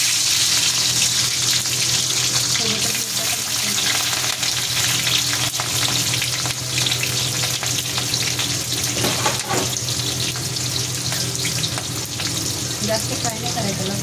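Garlic and green chillies frying in a pan, a continuous loud sizzle with stirring and some running-water sounds mixed in, close and without talking.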